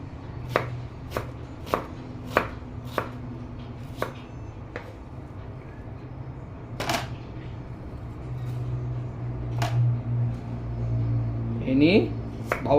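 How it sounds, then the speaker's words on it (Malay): Holland onions sliced with a knife on a cutting board, about a dozen sharp evenly spaced chops near the mic over a low background hum, followed by a short spoken remark. "kita hiris dulu bawang kita sebelum kita nak blender dia. Yang ini bawang Holland lah."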